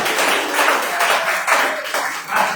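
A church congregation claps steadily during an evening worship service, a dense continuous wash of many hands that swells and eases in waves, filling the room.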